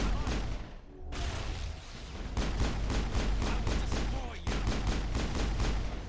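Repeated gunshots crack in quick bursts during a space combat video game, a sharp volley after a brief lull, then steady rapid fire with a short break before more shots.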